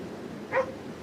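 Jasper, a dog out on a beach, gives a single short bark at a middle distance, with quiet outdoor air behind it.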